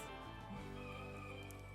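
Chickens cluck and squawk together in a busy, continuous chorus, close by, with no talking.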